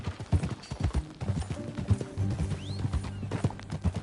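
A horse gallops in Red Dead Redemption 2, with rhythmic hoofbeats thudding close and clear over light game ambience and a brief whinny-like sweep midway.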